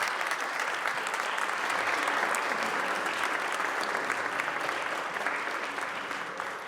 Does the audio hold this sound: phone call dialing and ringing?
no